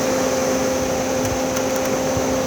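A caravan roof vent extraction fan runs with a steady mechanical hum and tonal whine, constant and close, with faint ticks over it.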